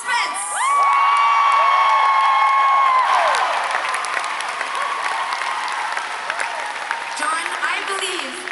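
Concert crowd at Hammerstein Ballroom cheering and applauding for the keyboard player at a show, loud sustained whoops and high shrieks over a thick wash of clapping that fills the hall.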